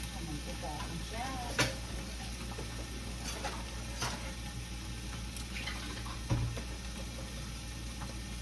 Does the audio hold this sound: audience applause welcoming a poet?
no